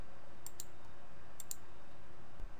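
Computer mouse clicks while working in AutoCAD, two quick pairs of sharp, faint clicks separated by about a second, with a softer single tap near the end over a quiet room hum.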